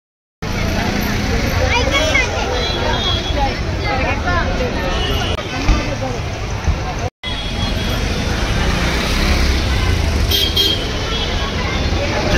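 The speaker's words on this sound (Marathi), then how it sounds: "ह्या रोडनं हरवेळी तिथं ट्रॅफिकच असते" Busy Sunday road traffic near Dagdusheth Ganpati temple in Pune, a dense steady roar of passing vehicles and crowd bustle with horns tooting now and then, while someone talks close by over it.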